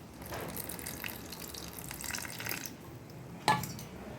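Tamarind water is poured into a pan while cooking karamani kuzhambu, a black-eyed pea curry, making a continuous splashing liquid rush with a sharper splash near the end and no talking.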